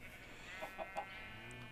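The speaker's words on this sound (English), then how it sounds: "Hey, there's another chicken." Minecraft chicken clucking, three quick faint clucks close together over a quiet game background, with no talking.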